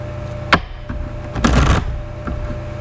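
A deck of oracle cards handled and shuffled up close: a sharp snap of cards, then a brief, dense riffling burst of about a third of a second, with light rustling in between and no talk.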